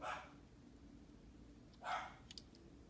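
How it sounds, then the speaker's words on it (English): Dogs barking indoors in the background, two short bursts of barks a couple of seconds apart, faint and somewhat distant, with a few light clicks between. "Dogs are freaking out."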